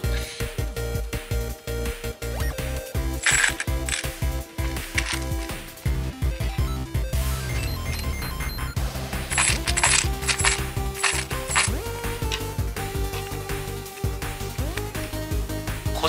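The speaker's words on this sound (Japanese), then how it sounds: "小銭を入れておきます。" Coins dropped into the coin section of a faux-leather Daiso long wallet, a dense run of close metallic clinks and jingles lasting throughout, with brighter bursts of clinking at times.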